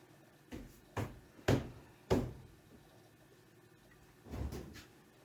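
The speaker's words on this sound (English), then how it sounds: "Check the door to make sure it opens okay." A workshop cabinet door being opened and tested, a series of several wooden thunks and knocks with a pause before a final softer bump.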